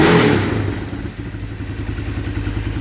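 A Chinese four-wheeler converted into a UTV idles close by with a steady, choppy engine chug and some clattering, loud at first and then settling into an even rhythm.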